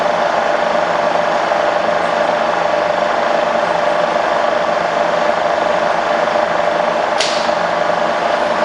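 A Bridgeport milling machine with a 48-inch table runs its spindle at about 1,000 RPM, making a steady, even mechanical whir that holds constant throughout, with one brief sharp tick near the end.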